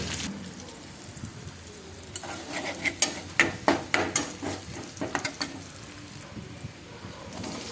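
Onions sizzle and hiss as they are stirred in a hot pan with green chillies, curry leaves, ginger and garlic for Andhra-style tindora (ivy gourd) thokku. Close scraping stir strokes and crackling frying build in the middle, with no talk.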